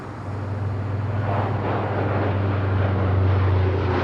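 A Lockheed Electra turboprop on a nighttime freight run to Belfast drones steadily with a low, constant propeller and engine hum, loud and continuous throughout with no talking.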